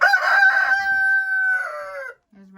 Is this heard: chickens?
yes